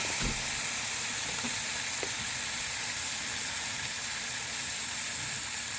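Ham hocks and a half slab of pork ribs brown in a hot pan for red beans, giving a dense, even sizzle that runs unbroken throughout with a few faint knocks early on.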